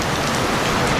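Heavy rain falls in a dense, steady hiss of drops spattering on surfaces close by, loud and unbroken throughout.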